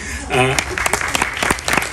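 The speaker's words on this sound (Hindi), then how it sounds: "केवल एक ही आशा है कि आप उन्हें तालियां दें और प्रोत्साहन दें" Brief audience applause at a World Hindi Day poetry gathering, scattered claps rising under a voice speaking over them.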